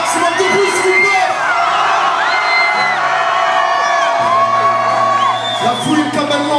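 A large concert crowd at a show whoops, cheers and yells loudly and continuously, with shrill rising shouts over a dense roar of voices.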